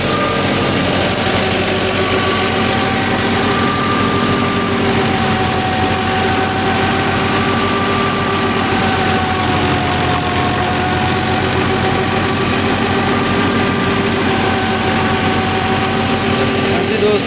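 A 2010 Massey Ferguson 375 tractor engine runs at a steady 1500 rpm, a loud continuous diesel drone with an even low throb and no change in pace.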